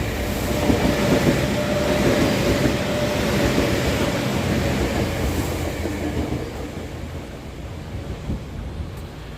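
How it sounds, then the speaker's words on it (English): A train rolls past a Tokyo railway crossing in the evening, a loud, close, continuous rumbling roar with a faint crossing tone that slowly eases off toward the end. "Living next to a train crossing like this and hearing this every day, torture."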